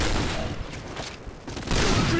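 Rapid bursts of gunfire crackle in a shooting video game, a dense fusillade of loud, closely spaced shots filling the short moment, with a flurry at the end.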